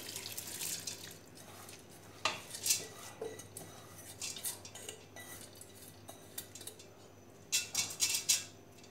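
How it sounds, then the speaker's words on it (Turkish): Cracked wheat goes into a pot for Tokat-style keşkek cooked in a bread oven, heard as faint rattling scrapes and clinks of grains and metal in a quiet kitchen, in several short bursts. "Yarmayı da içerisine koydum."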